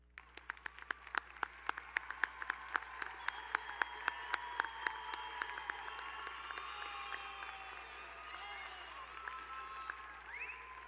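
Audience applause at a Washington High School graduation ceremony for the class of 2025, honoring top graduates as they stand; sharp individual claps at first, swelling into steady sustained clapping across a large crowd.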